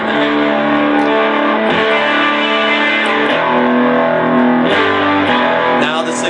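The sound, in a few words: electric guitar with amp distortion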